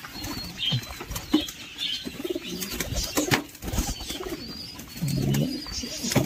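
Pigeons coo nearby amid bursts of wing flapping and scuffling, with rustling and pattering throughout.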